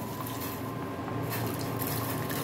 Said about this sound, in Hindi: अब इसमें हम टूटी फूटी को डाल देंगे